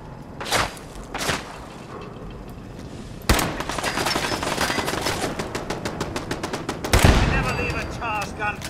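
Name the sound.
gunfire in the video game Fallout 4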